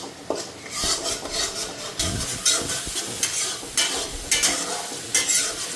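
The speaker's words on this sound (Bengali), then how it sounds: "তো এদিকে মশলাটা ভাজা হয়েই গেছে" Spices frying in a pan with tomato, green chili and mustard, a steady close sizzle broken by repeated scraping stirs of a utensil against the pan.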